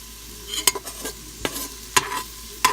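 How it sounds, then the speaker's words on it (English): Shredded beef being stirred in a pan for ropa vieja, a soft sizzle under sharp intermittent scrapes and clinks of the utensil against the pan, about four distinct strokes. "And just stir."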